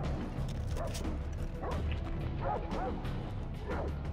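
Dog barking in the video game Far Cry 3, several short yelping barks scattered through a constant game background hum, moderately loud and fairly close.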